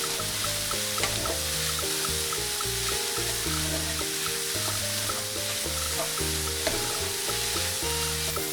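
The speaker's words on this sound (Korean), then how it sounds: "두부 한 모를 올려서 주걱으로 으깨 고슬고슬하게 수분을 날려 볶아줍니다." Tofu block mashed and stir-fried with a spatula to dry it out, a steady loud sizzle and frying hiss throughout with scraping stirring strokes, no talk.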